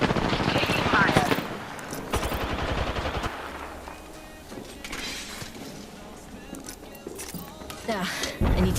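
Bursts of video-game gunfire strike the player, rapid shots crackling at the start and again near the end, with electronic effects and game voice lines in between.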